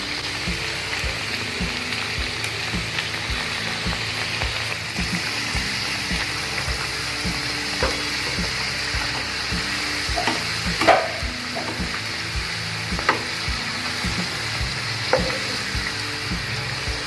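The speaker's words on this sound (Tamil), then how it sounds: "வாவ், சூப்பராக பொரியுது சுத்தி." Sweet somas deep-frying in hot oil, a steady dense sizzle and bubbling running throughout with a few sharper crackles and pops standing out near the end.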